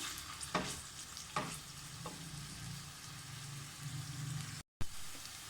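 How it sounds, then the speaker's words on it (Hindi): Onions sizzle steadily in hot oil under a low background hum, with a few sharp clatters of stirring; no voices. "यहाँ ऑयल गरम करके उसमें प्याज डाल दें और उसको फ्राई कर लें।"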